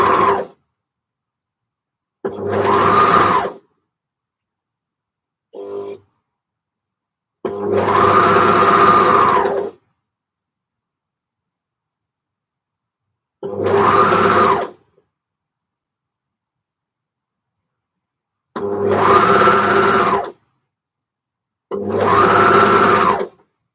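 Sewing machine stitching knit tops, running in six separate loud bursts of a few seconds each, split by stretches of near silence.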